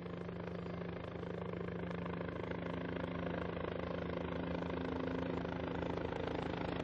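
A helicopter flies steadily overhead in the mountains of Upper Mustang, its rotor drone and engine whine constant and fairly loud across the whole stretch.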